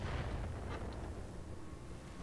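Heavy weapon fire in the mech combat game RogueTech BattleTech, a deep sustained rumbling blast with crackling debris, loud and continuous with no voices.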